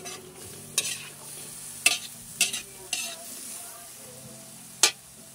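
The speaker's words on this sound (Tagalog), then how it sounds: "Haluin ng bahagya para umiko" String bean adobo (adobong sitaw) stirred in a frying pan, with sharp scraping clinks of the spatula at irregular intervals over a soft, steady sizzle.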